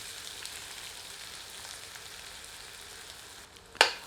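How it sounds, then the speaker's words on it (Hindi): Onions frying in hot oil with a bay leaf over medium heat, a faint steady sizzle that ends in a short sharp clatter near the finish. "आंच को मध्यम करके प्याज को तब तक भूनते हैं जब तक कि प्याज स्वर्ण आभा से परिपूर्ण नहीं हो जाती"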